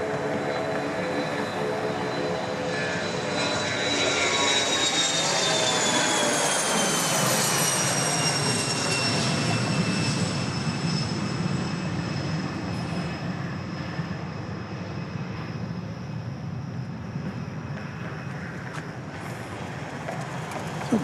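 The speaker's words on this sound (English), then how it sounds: "it's a Saab 2000 dating back to the year 1995" A Saab 2000 turboprop airliner from 1995 at Dallas Love Field, its engines giving a steady loud roar with a high whine that slowly falls in pitch as the aircraft passes, then fades over about twenty seconds.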